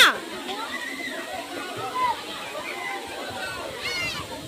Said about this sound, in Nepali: राम्रो झर्ना।